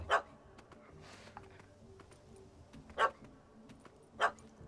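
A small dog in The Witcher 3 gives three sharp, distinct barks spaced a second or more apart, fairly close, over a quiet game soundscape.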